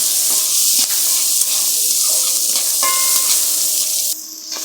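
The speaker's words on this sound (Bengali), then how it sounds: "তেল দিয়ে পেঁয়াজটাকে আমি বেশি লাল লাল করব না" Onion frying in oil gives a close, loud sizzle with a dense, steady hiss across the whole clip, broken by a few brief clicks of a utensil.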